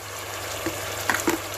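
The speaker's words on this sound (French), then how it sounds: "vous rajoutez les oignons avec l'ail" Meat frying in a pan with onions and garlic added, a steady low sizzle with a few brief stirring scrapes, close and alone without voices.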